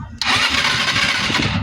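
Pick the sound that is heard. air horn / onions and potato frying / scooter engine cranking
scooter engine cranking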